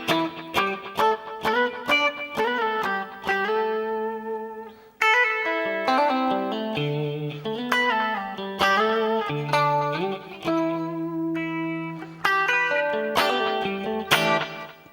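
Electric guitar plays an octave melody of the opening bars through an effects chain with distortion and chorus, a steady run of plucked notes with clear attacks and some reverb tail, heard alone.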